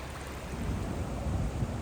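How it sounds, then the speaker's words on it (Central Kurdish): Heavy rain pours steadily over city streets in Erbil, a dense, even roar of water that runs on without a break and sounds close and full. "بارانی بەخۆڕ جارێکی تر ئاوی لە نێو شەقام و کۆڵانەکانی هەولێر دروست کرد."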